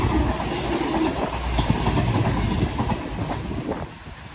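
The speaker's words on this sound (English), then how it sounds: "here comes the cross-country service going to Plymouth from Edinburgh" A CrossCountry passenger train, Edinburgh to Plymouth service, rolls past close by on a diverted route, a loud continuous rumble with rhythmic wheel clatter over the rails throughout.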